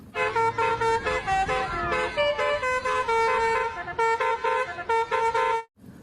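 A toy bus plays a telolet horn: a loud, close, musical multi-tone honking melody in rapid bursts lasting several seconds before cutting off abruptly.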